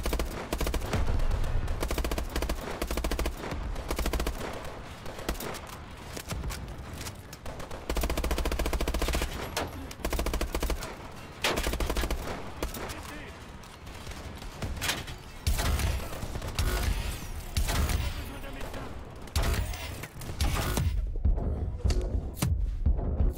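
Heavy automatic gunfire in the Call of Duty: Advanced Warfare shooter game, dense rattling bursts and thudding impacts repeating for over twenty seconds with brief lulls, loud and continuous.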